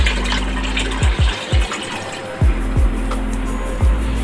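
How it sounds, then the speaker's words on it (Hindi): Water splashes and gurgles steadily as it is poured from a jug into a pot for chana pulao rice, with a few low thuds scattered through the flow. "1 जग आपने पानी डालना है भर के"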